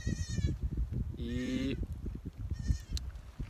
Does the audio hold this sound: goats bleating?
yes